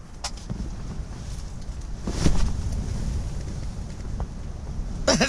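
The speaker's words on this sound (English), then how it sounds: "This is how windy it is." Strong gusty wind buffets an ice fishing tent, a steady rushing roar with a louder gust midway and flapping fabric, heard close and alone.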